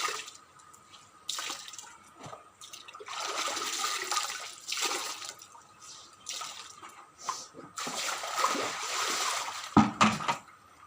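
Washed clothes being wrung out by hand in a bathing area, with water splashing and dripping in repeated bursts, fairly close and moderately loud.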